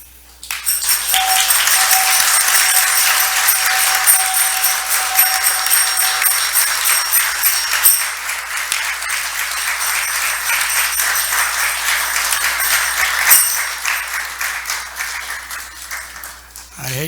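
Audience at a Sunday feast talk clapping in a broad, steady wash of applause that holds for most of the stretch before fading near the end, with a faint ringing tone at the start.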